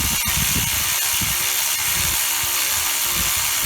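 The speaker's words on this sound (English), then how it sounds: "Once I know I'm in there good, bust out with the cordless." A cordless power tool drives the belt tensioner bolt on a 2005 Ford Mustang, a loud, close, continuous mechanical whir with gritty rattling texture and a few sharp clicks, with no talking.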